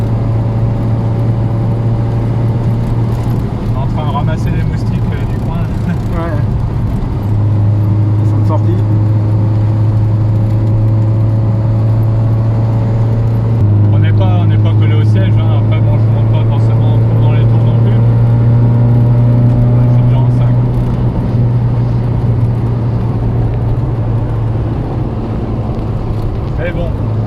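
A Fiat Ritmo 105 TC front-wheel-drive hatchback's engine drones steadily while driving, a loud low hum with gear-change dips and road noise throughout, people talking over it inside the car.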